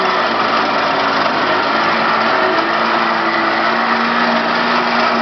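A 12V electric winch with a wireless remote hauls a Nissan Navara out of a muddy bog, its motor whining in a steady, loud, continuous high-pitched hum.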